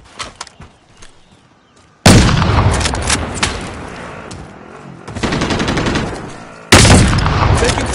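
Video game gunfire: a few scattered shots, then long, loud, sustained bursts of automatic fire and explosive booms, close and dense, with a short lull between volleys.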